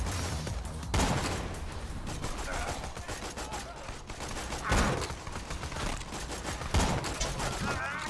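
Rapid gunfire in the video game Borderlands 2, a dense stream of shots with a few heavier booming blasts standing out, loud and close, with speech underneath.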